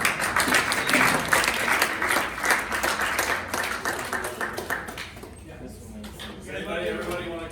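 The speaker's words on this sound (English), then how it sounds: "let's give Adam another round of applause" A crowd claps steadily for several seconds, the applause gradually thinning out and tapering off toward the end.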